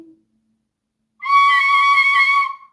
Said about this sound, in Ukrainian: Тут сопілочки дзвінки.